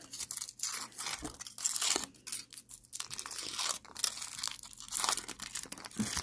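Foil wrapper on a hard, unmelted chocolate egg is torn and crinkled open up close, with bursts of crumpling and crackling over about six seconds and no talking.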